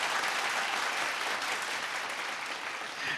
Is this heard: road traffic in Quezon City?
no